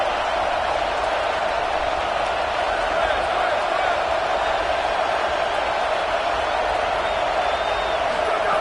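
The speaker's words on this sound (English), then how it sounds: "this crowd coming to life here, trying to help the defense get a stop with the offense pinned back" A roaring football stadium crowd at a college game against LSU, cheering and rumbling steadily as the defense tries to get a stop, with a broad, dense wash of voices throughout and a commentator talking over it.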